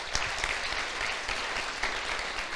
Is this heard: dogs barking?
no